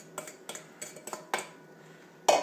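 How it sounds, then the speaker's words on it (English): Crumbled graham crackers are spread by hand to line the bottom of a cheesecake pan, giving a series of light, close clicks, taps and scrapes with short pauses between them and one slightly louder knock near the end, with no talking. "We're lining the bottom of this pan with the graham"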